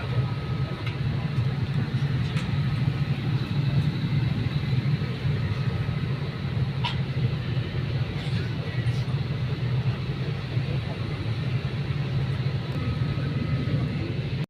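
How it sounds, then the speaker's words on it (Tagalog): Inside an airplane cabin in flight, a constant low engine drone and rumble fills the space at an even, moderately loud level, with faint cabin sounds now and then. "nakasakay na kami ng aeroplano"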